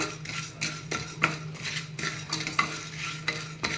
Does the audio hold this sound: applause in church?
no